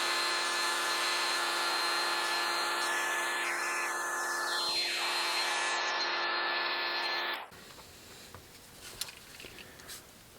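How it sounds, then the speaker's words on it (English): A hair dryer blows steadily and loudly on a fish-fin casting mold, a continuous whooshing roar that cuts off abruptly near the end, leaving quieter handling noises. "we're going to take a dryer and we're just going to blow dry it"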